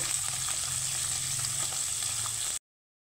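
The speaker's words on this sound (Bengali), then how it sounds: "এখানে আমি মাছটাকে সুন্দর করে লাল লাল করে ভেজে নেব।" Fish shallow-frying in a pan until browned, a steady close sizzle and crackle of hot oil with small pops, running alone for about two and a half seconds before cutting to silence.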